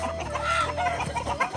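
Chickens cluck close by in a short, busy burst of overlapping calls.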